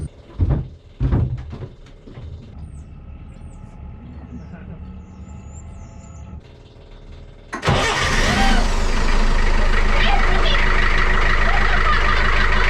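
An engine cranks briefly then catches and roars to life, settling into a loud steady idle close by after a few quiet clicks and knocks.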